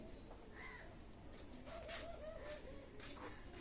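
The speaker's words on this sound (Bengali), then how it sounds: "ভিউয়ার্স এখানে আর এক পেয়ার রয়্যাল টেডি কবুতর আছে" Royal Teddy pigeons in a loft coo softly in low, rolling calls, faint and somewhat distant over a steady background hiss.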